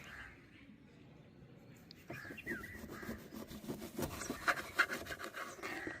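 A lemon is cut into small pieces for a mojito, with soft, close knife scraping followed by a few light taps on the cutting surface, all at low volume.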